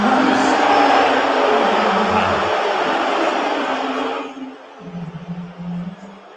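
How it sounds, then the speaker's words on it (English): Crowd at Madison Square Garden during a New York Knicks finals game reacting to Trump, a loud sustained roar of mixed cheering and booing that fades toward the end, with a voice speaking over it. "You can hear some people boo. You can hear some people cheer."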